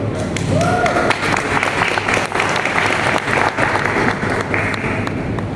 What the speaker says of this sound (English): I think you guys deserve a round of applause as well.